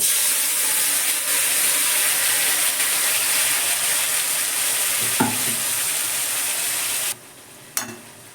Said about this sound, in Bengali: এবার পেঁয়াজ আর টমেটোর পেস্টটা দিয়ে দেব